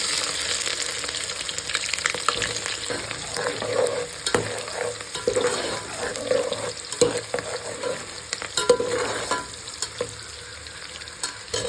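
Close-up sizzling of shallots frying in a hot pan, with intermittent scraping and stirring sounds throughout.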